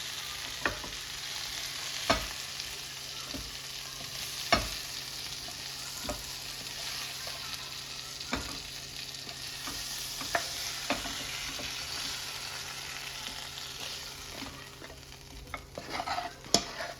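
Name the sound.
chicken shallow frying and being stirred in a pan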